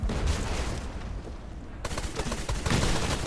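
Rapid bursts of booming ship cannon fire and crackling blasts in the video game Blazing Sails, dense and loud, with a brief lull in the middle before resuming.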